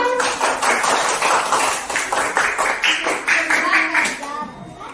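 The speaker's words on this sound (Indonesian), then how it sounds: "tepuk tangan dulu untuk kelompok 5." A classroom claps for a student group after its presentation, a dense, lively burst of many hands lasting several seconds at steady strength before tapering off at the end.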